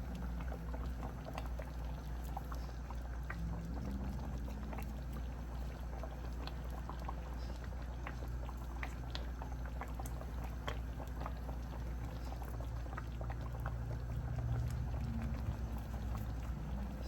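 Meatballs simmer in sauce inside a covered pot, giving a steady, close bubbling that runs without a break, with small pops and spits scattered throughout and no voices.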